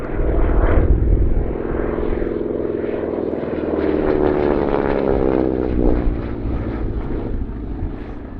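A North American AT-6 Texan training aircraft flies close by with its propeller engine droning loudly and steadily, a thick, rough roar that holds for the whole stretch with no talk.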